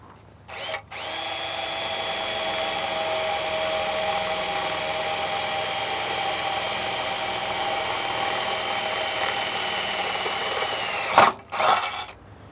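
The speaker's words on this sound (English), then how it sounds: "With your drill and your 3/8 drill bit" A power drill with a 3/8 bit whirs loudly and steadily for about ten seconds, starting and stopping abruptly, with a short spin-up burst before and after.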